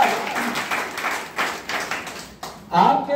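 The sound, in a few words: audience clapping for new people at a meeting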